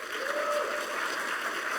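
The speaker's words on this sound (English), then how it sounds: "Give him a round of applause" An audience applauds a panelist introduced on stage at a PAX East 2016 panel, a steady wash of clapping under faint crowd murmur, filling the short moment.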